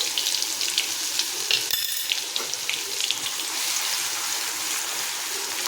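Crushed garlic hits hot oil with a cumin tempering for a Gujarati potato curry, a crackling sizzle with a sharp burst near the start that settles into steady frying hiss.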